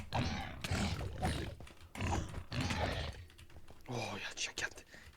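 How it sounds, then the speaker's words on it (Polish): A pig in a video game gives low grunts, mixed with keyboard tapping and quiet talking from players nearby. "O, świniok!"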